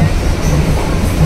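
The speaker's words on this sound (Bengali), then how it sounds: "এই ট্রেনটা অনেকটা কলকাতার সেই লোকাল ট্রেনগুলোর মতন" A Lalgola passenger local train, like the Kolkata locals, rumbles along loud and steady from inside a nearly empty ladies' compartment, with continuous low track roar and faint wheel clatter.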